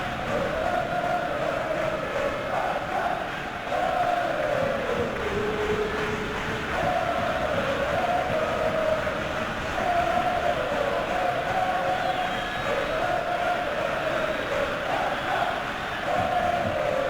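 A stadium crowd in the football game PES 21 at a Barcelona vs Atlético de Madrid La Liga match chants and roars continuously, a loud sustained wash with rising and falling sung phrases.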